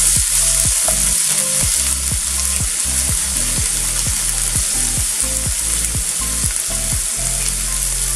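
Roasting baingan bharta mixture hisses and sizzles loudly in a pan while a spatula scrapes in a steady, regular stirring rhythm, close up and without voices.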